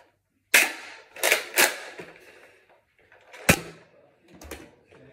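Several sharp snapping shots from a Nerf toy gun, about five in an irregular burst, each crisp and close with a brief rattle after, and no talking.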